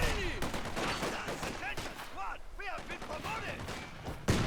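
Battle sounds from Company of Heroes 2 include a rifle grenade and gunfire, rapid bursts of shots and explosions in dense succession with chirping effects, while a voice talks over part of the action.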